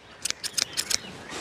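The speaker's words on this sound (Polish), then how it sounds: "Będę ciachała lubczyk." Scissors snip fresh lovage stems outdoors by a compost heap, about five quick, close, crisp cuts in a short run, then quiet.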